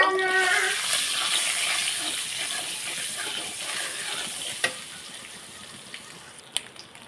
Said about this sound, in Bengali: লবণ আর হলুদ দিয়ে ভালোভাবে ভেজে নেব